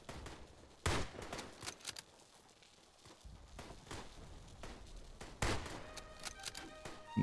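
Gunfire echoes from a distance in the World War I shooter Tannenberg: scattered rifle cracks and rattling volleys, some sharper shots standing out against a steady battlefield din.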